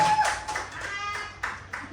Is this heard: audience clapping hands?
yes